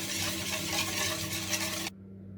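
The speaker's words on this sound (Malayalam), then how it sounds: "നമുക്കിതിനി ഇളക്കി നോക്കി" A spoon scrapes and swirls through grape pudding mixture in a pan, a continuous close rustling stir that stops abruptly near the end, with no voices.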